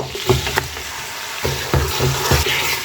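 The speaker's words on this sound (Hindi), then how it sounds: "इसको हम अच्छे से बीफ को इसके साथ फ्राई कर लेंगे।" Beef frying with spices in a pot for danedar qorma, a steady close sizzle broken by repeated stirring scrapes and clunks of a spoon against the pan.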